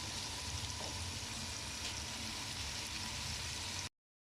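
Onions and carrots sauté in a pot with a soft, steady sizzle that stays close and continuous before cutting off abruptly.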